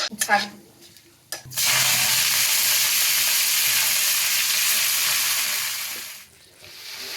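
Leafy greens drop into hot oil tempered with black cumin and dried chillies, letting out a loud, sudden sizzle that holds steady for several seconds after a few soft handling noises, then eases briefly before rising again.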